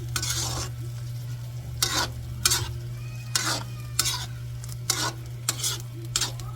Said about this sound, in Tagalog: maano natin yung beef giniling, ma mag mapa-brown muna natin yun bago natin igisa sa sibuyas bawang